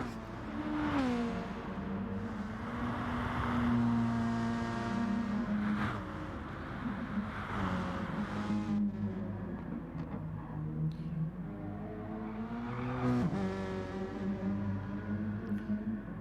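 Race cars in a 2021 DMR rankings race, engines revving and whining loudly and continuously with pitch sweeps as they accelerate, brake and pass, with tire squeal mixed in throughout.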